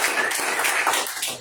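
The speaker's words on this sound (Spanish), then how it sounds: "¿Por qué no le das un aplauso, Señor?" A congregation applauds during a church service, a dense, steady patter of many hands clapping at once that fills the space evenly and holds without a break.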